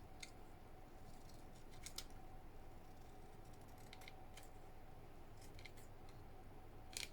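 Scissors snip through excess paper while a flip flop tag is trimmed for junk journal crafting. The cuts come as a few faint, quick snips spread over a quiet background.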